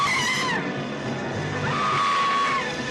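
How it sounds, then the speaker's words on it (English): A woman's shrill horror scream from the 1950s film The Wasp Woman rises in two long, loud, sustained bursts over a noisy soundtrack background. "1950s girls' horror scream is so loud"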